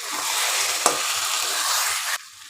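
Poppy seed and yogurt paste with raisins being stir-fried for a prawn and cauliflower korma, a loud steady sizzle with one sharp utensil knock, then the frying cuts to a quieter hum near the end.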